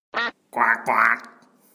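A human voice imitates a duck's quack, giving one short nasal call followed by two longer drawn-out quacks that fade away, loud and close.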